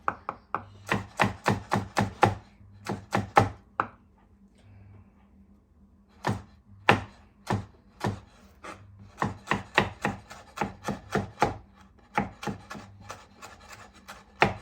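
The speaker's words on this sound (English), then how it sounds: "So we're going to cut a few green chilies, roughly chopped." Green chilies chopped roughly with a knife on a board, a long series of quick, sharp close-up cuts in bursts with brief pauses between.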